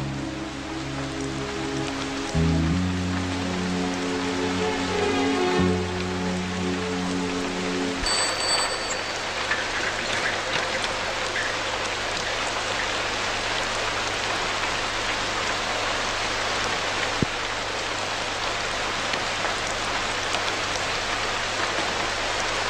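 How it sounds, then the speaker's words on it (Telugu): Steady rain falls at night, a dense even hiss running unbroken throughout with no voices, after a brief low rumble fades early on. "పైగా వర్షం"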